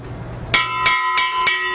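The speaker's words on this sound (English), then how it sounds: "The bell chimes to remind the students that classes are in session." A school bell at Tungay Elementary School chimes to start classes, ringing four evenly spaced metallic strikes with a bright, sustained ring that hangs between them, clear and fairly close.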